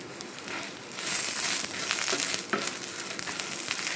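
Wild mango pieces fry in oil for a spicy pulimunchi, giving a steady crackling sizzle with soft crinkly bursts that grow louder after the first second, with no one talking.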